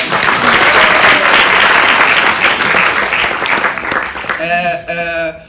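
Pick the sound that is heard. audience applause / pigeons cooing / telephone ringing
audience applause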